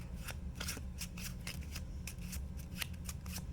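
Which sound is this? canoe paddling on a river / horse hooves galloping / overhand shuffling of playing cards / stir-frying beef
overhand shuffling of playing cards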